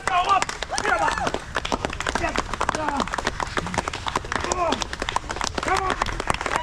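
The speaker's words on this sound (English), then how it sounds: "start clapping your hands" An audience claps hands in rapid, uneven bursts while people talk and cheer over it, dense and continuous throughout.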